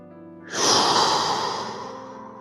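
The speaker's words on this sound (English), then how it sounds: "Breathing in." A person draws a deep breath in during a gentle morning mobility routine; a single close, airy inhale swells after a brief pause and then slowly tapers off.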